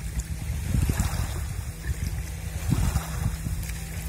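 Steady low rumble of wind and water with a few louder surges of a passing motorboat's wake washing ashore, outdoors and fairly close, no voices.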